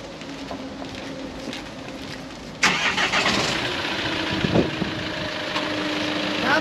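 A Renault Master service van with a box body drives on, its engine rumbling low at first and then surging suddenly louder as it accelerates, a sustained close mechanical roar with no speech.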